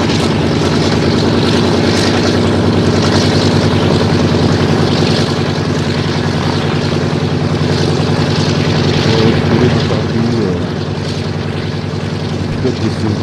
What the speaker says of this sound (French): le DC-3 va démarrer ses moteurs